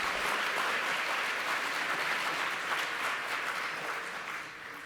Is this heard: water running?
no